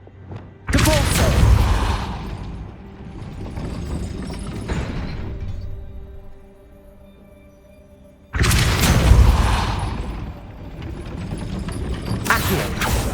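Spell impacts in the Hogwarts Legacy game: two loud, deep booming thuds with mechanical rumbling and creaks, the first decaying over several seconds before a second heavy blast lands, with no talk.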